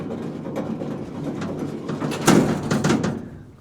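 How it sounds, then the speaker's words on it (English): Small, very old elevator doors close, a rumbling slide followed by a louder clattering thud and rattle near the end, close by against a steady mechanical background. "Close the 2 doors and off we go down to the bottom."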